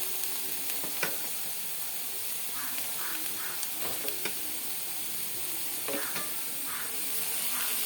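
Onion and capsicum sizzling in a hot pan, a steady frying hiss throughout with a few faint clicks and stirring knocks, no talking.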